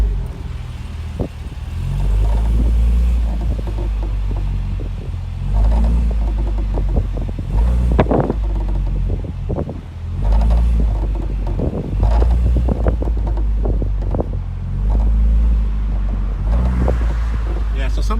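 Creaking from the rear of a 1970 Mercedes-Benz 280SL while driving: sharp, irregular creaks and clicks recur over a steady low engine and road rumble with some wind noise throughout.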